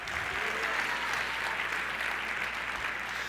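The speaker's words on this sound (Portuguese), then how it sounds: "pode dar uma salva de palmas ao Senhor" A church congregation applauding during a sermon, sustained clapping at moderate distance with a low hum beneath, steady and fairly soft throughout.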